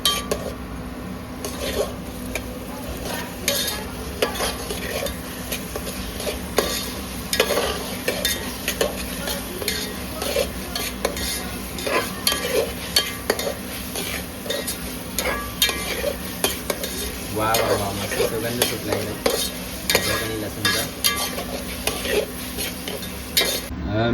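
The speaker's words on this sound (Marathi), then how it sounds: "आपण याच्यामध्ये आता अद्रक लसूण आणि मिरचीची पेस्ट टाकलेली आहे आणि ते मिक्स करून घ्यायचं व्यवस्थित" A spoon stirs ginger, garlic and chili paste into onion and tomato in a pan while making pulao, with continuous scraping and clinking against the metal over a soft sizzle, close up and steady throughout.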